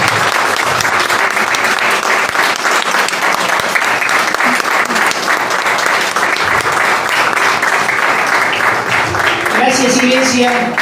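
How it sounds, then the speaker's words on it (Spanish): A church congregation applauds at the close of a sermon, a loud sustained wall of clapping lasting about ten seconds, with a voice starting to speak just at the end. "Ahora vamos a darle un aplauso a nuestro Padre Celestial."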